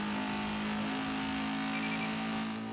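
Car accelerating in the Forza Street mobile racing game, a steady engine drone with a sustained tone held throughout, fairly quiet and alone.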